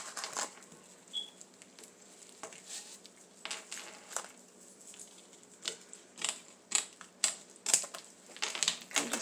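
Scissors snip through deco mesh while a Halloween witch wreath is being made. Crisp crunching cuts come in an uneven series, growing quicker and louder toward the end, with no talking.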